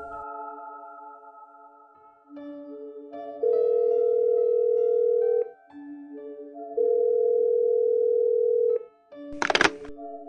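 A telephone plays a steady dial tone, then ringback tones in two long sustained beeps separated by a gap, ending with a brief burst of noise, clean and close with no talking.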